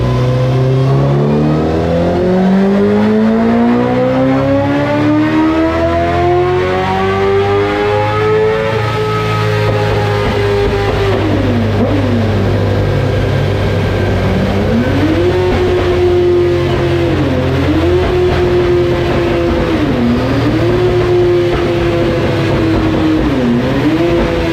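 Honda CBR 1000 motorcycle engine revving on a dyno, loud and close, climbing steadily in pitch through the gears, then holding high with repeated brief dips as it shifts.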